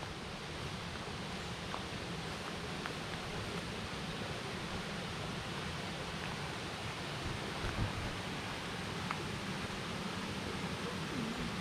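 Small waterfall at Pha Man in Khon Kaen, heard as a steady, even broadband rush of falling water throughout, fairly close and unbroken, with no voices.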